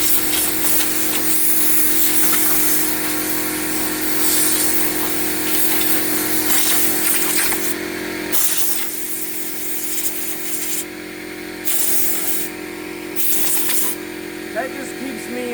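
A loud, steady rush of compressed air blows sawdust off a wooden charcuterie board in a workshop, holding a constant hum with brief bursts and pauses and someone talking over it throughout.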